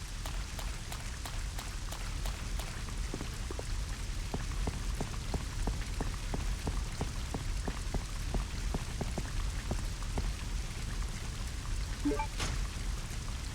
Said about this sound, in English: Just the sound of rain and fire.